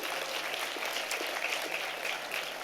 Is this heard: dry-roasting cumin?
no